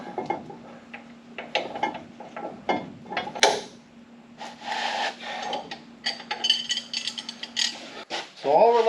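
A ratchet drives bolts into the brake rotor bracket on a 2004 Dodge Ram 2500, giving bursts of dry clicking and rasping metal strokes over a faint steady hum, close by in a quiet garage.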